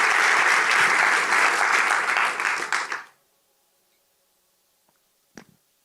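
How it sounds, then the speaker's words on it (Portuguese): Loud, dense applause from a church congregation at Zion Church Lisboa, celebrating Jesus, sustained for about three seconds before cutting off into near silence, followed by one faint knock. "dá uma salva de palmas para Jesus"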